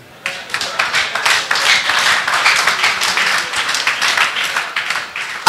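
A church congregation applauding during a worship service: dense, continuous crackling claps from many hands that start abruptly and hold steady, then thin out near the end, with faint voices underneath.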